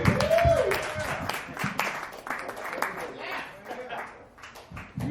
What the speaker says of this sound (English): Another round of applause for KJ Vaughn.